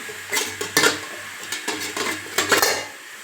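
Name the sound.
idli steamer pot being set down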